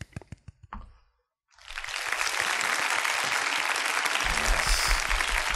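A few sharp separate taps and knocks, then a short silence, before a studio audience at a Nine Club show bursts into loud continuous applause and cheering that holds to the end.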